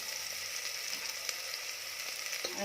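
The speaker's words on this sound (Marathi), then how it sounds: "तेल छान गरम झालं की त्यामध्ये बारीक चिरलेला कांदा घालायचा आहे कांदा छान परतवून घ्यायचा आहे" Finely chopped onion sautéing in hot oil for a Kolhapuri white mutton curry, a steady close sizzle with small crackles and occasional light taps of a spatula, no talking.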